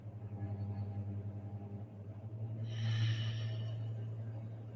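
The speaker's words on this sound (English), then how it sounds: "Long, slow, deep breathing." Long, slow, deep nasal breathing during a Kundalini yoga session, with steady drawn-out inhales and exhales over a low constant hum, close and fairly soft.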